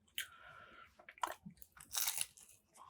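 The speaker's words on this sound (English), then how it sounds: "Like the skin, nice and crunchy." A sharp crunchy bite into fried chicken skin up close, followed by a few brisk chewing crunches and a wet squish, with no talking.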